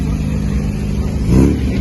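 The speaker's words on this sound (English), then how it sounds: "All the old cars, if you're into the old cars and the fashionable cars," Old MG cars from a club outing pass close by on a street in Geelong, Australia, a steady engine rumble swelling into a louder pass near the end.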